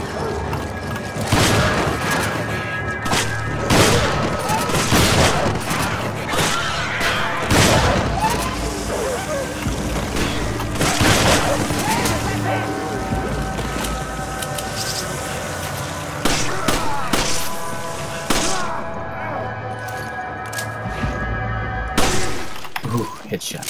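Shotgun blasts from Resident Evil 5 crack out again and again, loud and near, mixed with mechanical clanks, shattering debris and game noise, while players talk throughout.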